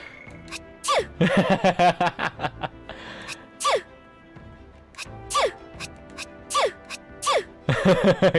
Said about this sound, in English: Gallica sneezed.